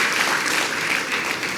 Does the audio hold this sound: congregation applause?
yes